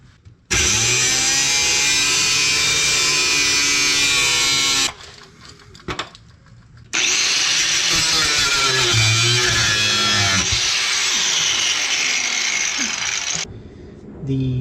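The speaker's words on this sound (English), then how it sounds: "got my cutoff wheel, got my safety glasses, got some gloves, and I'm going to cut both these out" A cutoff wheel grinds through driveshaft parts in two long, loud bursts of harsh, high-pitched whine and screech, separated by a brief quieter pause and ending with the tool spinning down.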